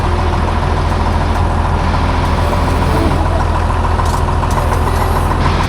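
A tractor engine runs steadily beside a shed, a loud, continuous diesel rumble and drone close at hand with no talk over it.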